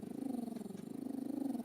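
A female dog growls at her own reflection on a screen, a low, continuous, rhythmically pulsing rumble, close and fairly quiet, lasting under two seconds with no talk.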